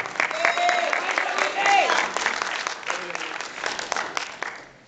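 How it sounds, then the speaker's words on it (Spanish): A church congregation applauds during a sermon, clapping loudly and steadily for several seconds before fading out. Voices carry through the clapping. "Dale un aplauso al Señor."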